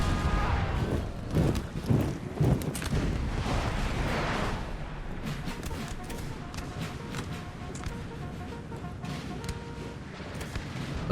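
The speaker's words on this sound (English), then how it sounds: "Do they know they're shooting through their own infantry?" Massed musket volleys and artillery fire from a Napoleon Total War battle make a continuous rumbling barrage of booms and crackling shots, heavier at the start, then a steady distant roar.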